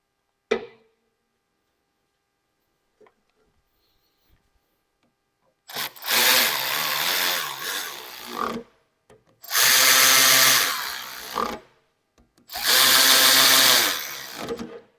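A power tool drives bolts into an aluminum window motor housing in a truck door repair, sounding as a single click followed by three separate whirring bursts of a few seconds each, close and loud, with quiet gaps between them.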